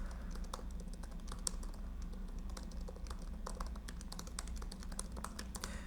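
Quiet typing on a computer keyboard, a quick irregular run of soft key clicks over low room hum, fairly faint and with no voice.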